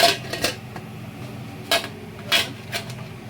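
A metal lid is set onto a medley steamer vessel holding colocasia-leaf aluvadi rolls for steaming. It makes a few sharp clanks and clinks, spread out and close by, with quiet gaps between them.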